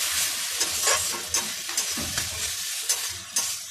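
Dried red chilli paste, ground with water, frying in a pan while being stirred, with a loud continuous sizzle and regular scraping strokes of the spatula.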